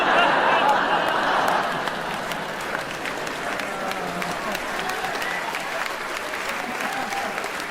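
Audience applause fills a stand-up comedy show, loud and dense for the first two seconds, then thinning into a softer, lingering patter of scattered clapping and crowd murmur.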